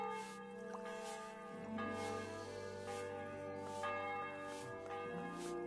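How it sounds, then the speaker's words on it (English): A church bell in the video game Kingdom Come: Deliverance II rings several times in slow, spaced strikes, each leaving long resonant overtones layered over a sustained musical drone. "bell's ringing for Hans the 5th time."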